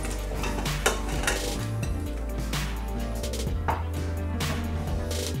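Chopped carrots, celery, onions, parsley, leek and ginger are tipped into a soup pot for Thai-style chicken noodle soup, giving a close clatter of pot and utensil knocks with soft scraping, a few sharp clinks standing out, no talk.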